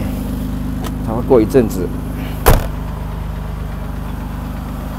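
A rebuilt 1980s Mercedes-Benz W126 300SEL, inline-six engine, idles steadily with a low even hum beneath someone talking, with a short thump partway through.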